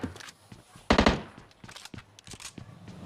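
Gunfire in PUBG Mobile, a tight burst of several rapid automatic shots near the one-second mark, with scattered fainter game sounds and clicks before and after.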